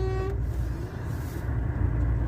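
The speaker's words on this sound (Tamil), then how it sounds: "இப்போ அடுத்தது ஹாரன் தான் இருக்குது, வேற வழி இல்லை" A truck horn honks at a vehicle ahead on a road at night, a loud steady tone that cuts off early, leaving the rumble of the engine and road noise.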